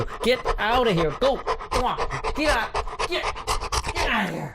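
A huge dog pants heavily right beside a podcast guest, fast rhythmic breaths running continuously under a voice as he shoos it away.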